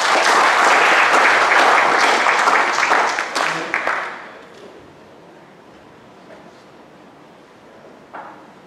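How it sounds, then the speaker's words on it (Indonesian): Audience applause closing an Indonesian art-history discussion event, loud sustained clapping from a crowd for about four seconds that quickly fades into a quiet room, with a brief voice near the end. "Tepuk tangan untuk kita semua."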